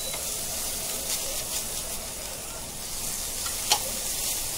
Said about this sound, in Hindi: अभी मिर्ची, कश्मीरी मिर्ची पाउडर डालेंगे, ये एवरेस्ट का तीखा लाल तीखा है तो 1 चम्मच भर डालेंगे। और कम गैस पे भुनेंगे।